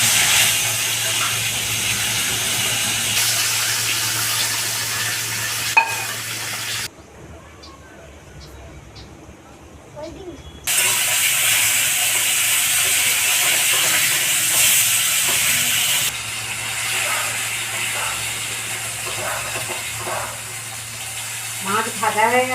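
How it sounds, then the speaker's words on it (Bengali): Pomfret fish frying in hot oil gives a steady, close broadband sizzle, which drops away briefly midway and then returns strongly with faint voices underneath. "এইভাবেই বাকি মাছগুলো ভেজে নিচ্ছি।"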